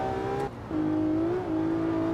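A racing game car lapping the Nürburgring, a close steady engine drone that drops in pitch at a gear change and then holds as it pulls along the track, without talk.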